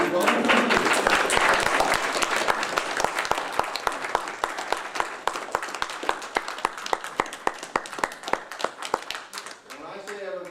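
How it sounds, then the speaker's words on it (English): Audience at an author's talk applauds to welcome a guest: a dense burst of clapping that thins to scattered, evenly spaced claps from a few people before fading out. "Yes, applause and welcome."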